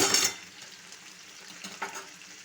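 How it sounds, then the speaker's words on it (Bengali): Boiled banana blossom goes into a pan of frying spices, giving a short burst of loud sizzle at the start that settles into faint, quiet frying with one soft scrape later. "মশলার ভেতরে এবার দিন সেদ্ধ করে রাখা কলার মোচাটা।"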